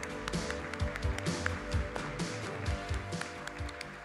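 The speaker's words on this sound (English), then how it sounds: "Let's give him another round of applause." An audience claps for a speaker at a business marketing event, with quick uneven claps and a few louder close hand claps over a low room murmur.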